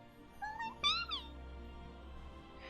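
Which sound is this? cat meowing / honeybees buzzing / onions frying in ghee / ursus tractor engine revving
cat meowing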